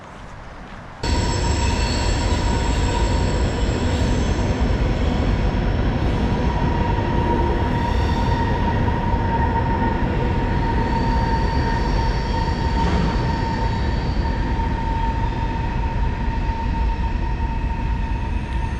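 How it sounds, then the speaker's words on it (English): A train rumbles steadily past at close range in Juliette, Georgia, loud and continuous, with a sustained metallic wheel squeal ringing over the roar. "That was train number 3."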